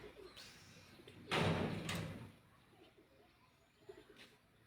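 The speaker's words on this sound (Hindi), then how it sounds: "जो ब्रीडर कबूतर है" Breeder pigeons coo softly nearby, with a louder rustling or sliding burst in the middle. Faint murmuring voices sit underneath.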